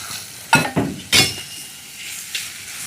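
Onion frying in a pan for a home dosa meal is stirred with a utensil, giving a few distinct scraping clinks over a steady sizzle, close and fairly loud, with no talking.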